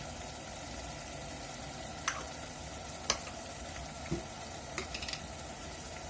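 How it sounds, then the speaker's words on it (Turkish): Minced meat filling for pide fries quietly in a pan, a low continuous sizzle broken by a few sharp clicks and taps of a spoon stirring against the pan, fairly faint and close, no voices. "güzelce karıştırıyoruz bakın bu şekilde"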